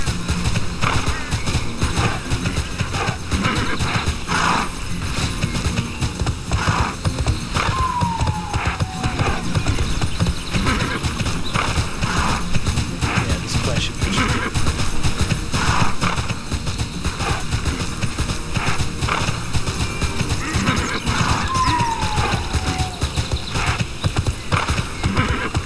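Horse hooves clip-clop steadily at a gallop in the online role-playing game TERA, with a couple of whinnies breaking through over the constant busy game soundscape.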